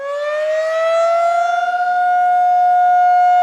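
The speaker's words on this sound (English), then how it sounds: "Where were you when the siren went off?" A civil defense siren warning of a flood, loud and close, sounding one sustained rising wail with a steady tone and no voices.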